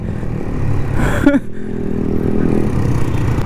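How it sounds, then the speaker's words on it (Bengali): A motorcycle being ridden and revved: steady rushing engine and wind noise, with a brief clattering burst and a rising rev partway through, heard up close. "এটা কিভাবে বাইক চালাচ্ছে ভাই?"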